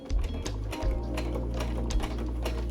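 A sewing machine stitches through fabric with a steady, rapid mechanical whir and chatter, close and continuous, broken only by a few brief pauses.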